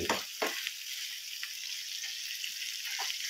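Tomatoes sizzling in hot oil in a pan for egg curry, a continuous close frying hiss with a few spattering pops and faint stirring, no talk.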